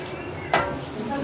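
A brief burst of sizzling as snails for a stew hit a hot pan, standing out sharply for a moment before settling into a softer frying hiss.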